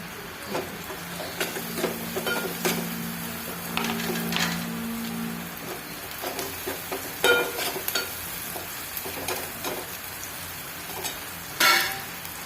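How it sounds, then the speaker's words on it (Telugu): Onion, green chili and turmeric stirred in a pan for a dried-fish and tomato curry, giving a steady close sizzle with repeated spoon scrapes and taps against the pan, no voices. "పసుపు పచ్చిమిర్చికి ఉల్లిగడ్డకు మిక్స్ అయ్యేటట్లు మంచిగా కలుపుకోవాలి"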